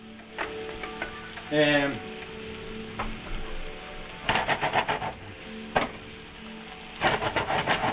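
Milk poured into a hot pan of pork for a royal curry cream sauce, making a steady close sizzle broken by bursts of stirring and scraping. One voice briefly speaks a single word.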